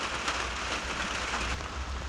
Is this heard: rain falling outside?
yes